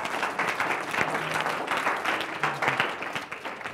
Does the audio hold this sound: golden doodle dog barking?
no